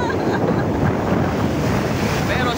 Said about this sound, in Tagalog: lumakas na yung hangin niya at saka yung alon.